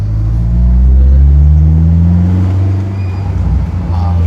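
A Honda S2000 AP2 drives with its exhaust note droning loud and close, a rising engine tone swelling then easing off, with a brief rougher burble toward the end.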